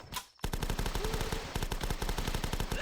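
Rapid automatic gunfire from the zombie-survival video game The Last Stand, a dense, continuous machine-gun burst of evenly spaced shots that begins abruptly after a brief pause and keeps up loudly for the rest of the span.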